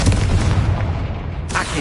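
A Confringo blasting spell goes off in Hogwarts Legacy: a loud, close boom with a rumbling low-end body that decays over about a second, followed by a brighter burst of debris-like crackle near the end.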